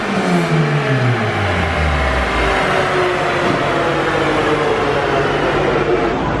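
A freshly rebuilt Honda B18C1 GSR engine revs hard on a dyno, a loud, steady roar that climbs smoothly in pitch with no break and no talking over it.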